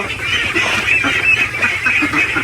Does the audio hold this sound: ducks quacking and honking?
yes